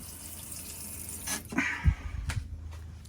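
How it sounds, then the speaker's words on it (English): Water draining out of the plumbing of a 2017 Grand Design Imagine RV while it is readied for winter: quiet faint trickling with a few louder gurgling splashes near the end. "get out all the water that's in the system."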